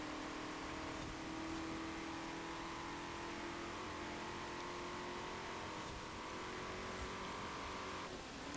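A modern muscle car engine roars in Forza Horizon 4 during a dual carriageway run, a loud, sustained high-revving drone holding steady pitch with a gear change near the end, no voices.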